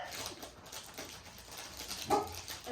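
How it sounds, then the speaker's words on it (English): Corgi dogs in a puppy house give a faint whimper and a brief soft bark near the end, low in level amid general room noise. "That's our mama dogs."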